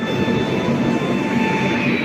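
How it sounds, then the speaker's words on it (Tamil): A Yesvantpur–Kochuveli full-AC express train stands at a platform in Coimbatore railway station, giving off a steady hum and drone with faint high whines and no voices. "இங்கே ஏதோ ட்ரெயின் நிற்கிது, என்ன ட்ரெயின்னு பார்ப்போமா?"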